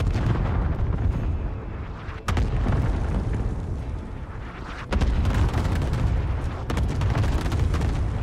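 Cluster airstrike explosions in Call of Duty: Warzone rumble in a deep continuous roar, with a few sharp loud blasts standing out at intervals, heavy and close with no talking.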